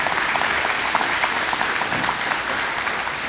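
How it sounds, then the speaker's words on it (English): An audience at a school district Memorial Day observance breaks into applause, a loud, sustained wash of many hands clapping evenly throughout with no voices on top. "I'd like to give him a round of applause."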